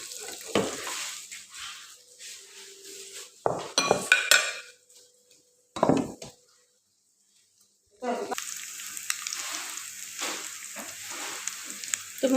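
Vegetables hit a hot pan and fry in intermittent bursts of sizzle, with metal clatter from stirring between quieter gaps and one brief near-silent pause.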